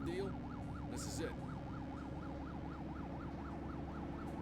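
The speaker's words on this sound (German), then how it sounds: "Oh, mal eine angenehme Sirene." A police car siren in The Precinct game wails in a steady, fast up-and-down sweep, loud and continuous over a low engine rumble, with a brief voice near the start.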